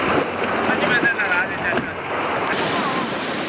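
Ocean waves surge and wash against a rocky island shoreline where seaweed is cut from the rocks, a steady loud roar of surf and spray mixed with wind buffeting the microphone, without speech.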